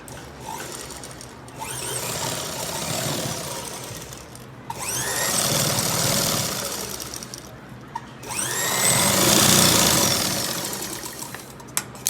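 A sewing machine stitches the curved seams of a pair of shorts in three steady, close bursts, each a few seconds long, with brief pauses between them.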